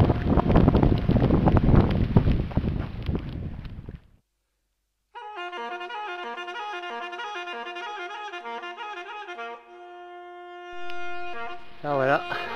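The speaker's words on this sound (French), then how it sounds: "toujours plein de vent, mais le temps se maintient" Strong mountain wind roars and buffets the microphone during a trail descent near Bourg-Saint-Maurice, loud and gusty for about four seconds before cutting out abruptly; steady music with sustained tones follows.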